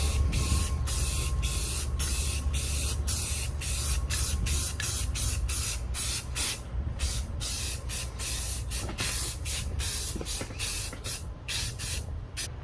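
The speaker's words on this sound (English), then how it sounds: "next step is get a nice coat of primer on here, and then we'll spray it with black" Repeated bursts of an aerosol primer spray can hissing close by while priming a Ford 8.8 rear axle for a Mustang, short sprays separated by brief pauses, with a low background rumble and no talking.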